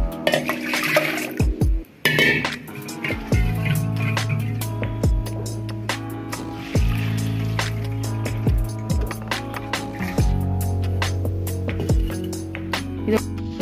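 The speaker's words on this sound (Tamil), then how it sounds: "இது வந்து நம்ம இதல வடிகட்டில போட்டு வடிய வச்சிரலாம்" Water pouring and draining from soaked moong dal in a kitchen strainer, a steady close trickle and splash with occasional knocks of the strainer, no talk.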